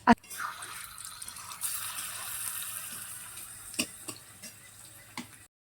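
A fish slides into hot oil in a tiny toy-kitchen pan. A sharp knock comes first, then a continuous hissing sizzle with scattered crackling pops that gradually settles.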